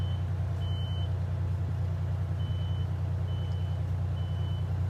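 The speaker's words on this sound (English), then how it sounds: "now the truck is rolling" A fire truck at a fire burn demonstration rolls out with steady engine rumble and a faint repeating reversing beep, continuous and moderately distant throughout.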